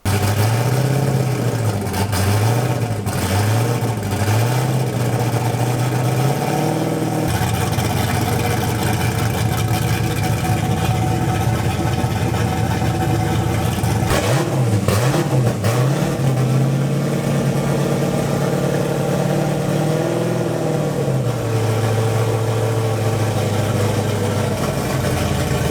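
A poorly running car engine with low compression fires up and revs repeatedly in uneven bursts, rising and falling with rough, loud cycles over a steady ragged idle, and no talking.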